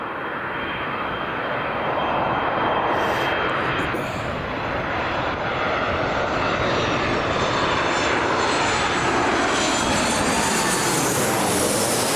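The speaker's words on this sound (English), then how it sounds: "Here's our first arrival of today. Good old Ryanair 737 MAX." A Ryanair Boeing 737 MAX arrives at Newcastle International Airport, its jet engines producing a loud, continuous roar that builds steadily as the aircraft draws nearer.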